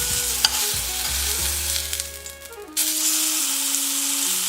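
Watermelon frying in hot oil in a pan, giving a steady loud sizzle and crackle with bursts of stirring or scraping, with no voices.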